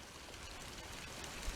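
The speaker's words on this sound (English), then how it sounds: "At the moment we've got water coming down just a little bit" Water trickling gently down a granite rock formation, a soft, steady, faint wash of running water with no talk over it.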